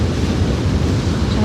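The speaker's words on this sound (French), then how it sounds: "J'ai un peu moins peur des vagues." Atlantic ocean waves break and wash up a beach on the Iberian coast, a loud, steady roar of surf close by, mixed with wind buffeting the microphone.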